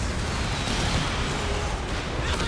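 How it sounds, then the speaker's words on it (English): Nebelwerfer rocket artillery barrage in Company of Heroes 3, a loud continuous roar of overlapping explosions and rumbling impacts with no break. "Is that a second Nebelwerfer?"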